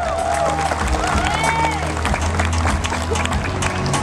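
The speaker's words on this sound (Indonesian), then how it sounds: "Mana tepuk tangannya?" Audience applause and cheering after a card trick at a public show in Makassar, dense continuous clapping from a crowd with voices mixed in throughout.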